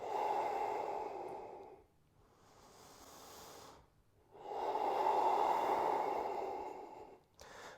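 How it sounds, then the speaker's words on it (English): Slow, deep breaths during a yoga flow, each long exhale swelling into a broad airy rush, then softer inhales between, close and steady with no talking. "And we breathe here."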